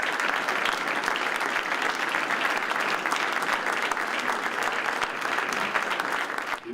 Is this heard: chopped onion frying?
no